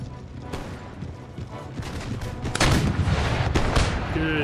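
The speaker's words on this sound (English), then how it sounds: "Are you firing the cannons?" Cannons firing in a battle in the strategy game Empire: Total War. Sharp booms hit repeatedly over a low rumble, growing denser and louder in a heavy volley toward the end, with a voice talking underneath.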